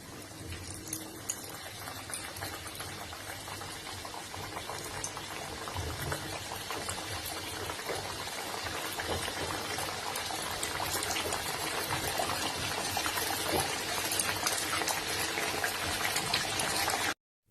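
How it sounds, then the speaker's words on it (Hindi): Pink banana puri, a Kokani sweet, sizzles in hot frying oil with a continuous, dense crackle and bubbling that grows slightly louder before stopping abruptly. "अब मैं आपको पिंक बनाना पूरी फ्राई करके बताती हूँ"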